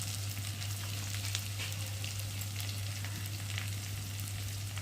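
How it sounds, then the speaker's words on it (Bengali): Potato and eggplant frying in a pan: a continuous close hiss of oil sizzling, even and unbroken, with a low steady hum beneath. "আলু আর বেগুনটা একটু ভালো করে ভেজে নেবো দেখো বেগুন আলুটা একটু ভাজা মতো হয়ে এসেছে"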